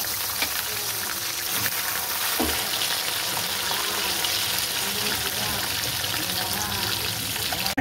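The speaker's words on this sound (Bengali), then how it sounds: "মাছগুলো ভেজে নেব" Fish frying in a pan of oil after onions have been fried, giving a steady, dense sizzle and crackle that holds throughout at moderate closeness.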